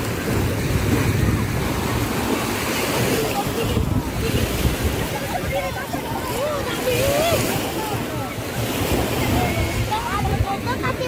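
Ocean waves surge and wash steadily onto a swimming beach, a continuous broad roar with wind buffeting the microphone throughout, and voices faintly mixed in.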